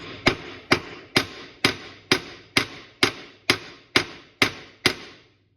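Eleven sharp metallic hammer strikes at a steady, even rhythm, flattening a blowgun dart's metal point on a vise anvil, each ringing briefly before the next, close and loud with no talking.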